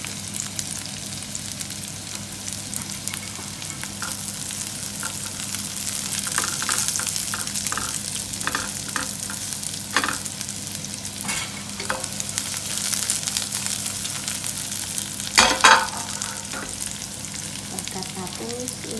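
Garlic sizzling as it sautés in a pan while cooking ampalaya with Spanish sardines, a steady close frying crackle with a few sharper spatters and stirring clatters, no talking.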